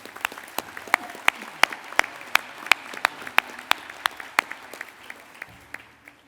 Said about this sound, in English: Let's go ahead and give applause for that half of the dais.